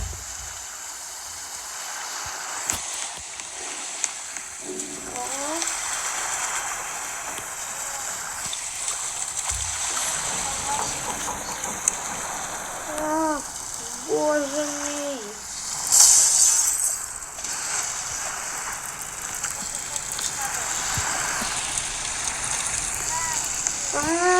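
Continuous rushing, splashing water from a sinking cruise liner in a video game fills the scene, with occasional clanks and creaks and short musical chirps over it.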